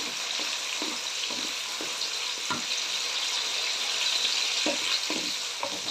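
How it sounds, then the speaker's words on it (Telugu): Okra masala frying in a pan, a steady close sizzle running throughout with occasional soft stirring scrapes, no talking. "ఇవి బాగా వేయించుకోవాలి దీంట్లో వేసి"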